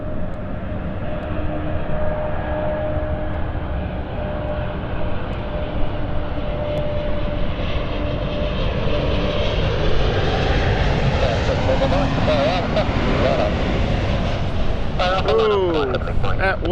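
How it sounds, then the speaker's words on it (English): A fixed-wing airliner on the inbound Edinburgh flight landing hard and bouncing at London City Airport, a loud, steady engine roar with rising whine that stays close throughout, with talk heard over it. "Ooh, that was a hard landing. That was a very bouncy landing, that."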